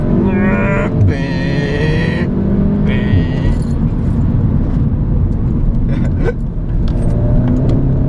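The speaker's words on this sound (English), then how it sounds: "Give it a little downshift, another little downshift." A Volkswagen Golf R tuned to 300 bhp is heard from inside as it downshifts, the engine tone stepping and blipping between gears over steady road rumble, loud and close, with no talk.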